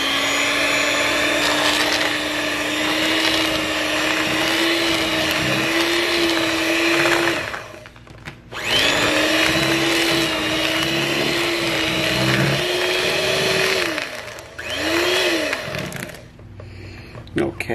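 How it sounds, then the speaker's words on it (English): A blender whirs loudly as it mixes two eggs with vanilla extract. The steady high whine runs in three long stretches, each broken by a brief stop. "2 eggs and 2 teaspoons of vanilla extract, and we're gonna blend this together"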